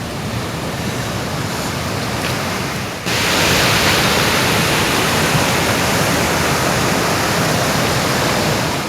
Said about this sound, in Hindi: पानी बढ़ रहा है नदी में।